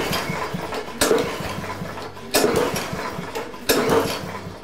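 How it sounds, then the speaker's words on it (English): A lawn mower engine cranked over repeatedly during a compression test, three loud bursts of cranking at roughly even intervals, each fading before the next, with no talk. "I'll turn the engine over 5 or 6 times until the pressure stops climbing"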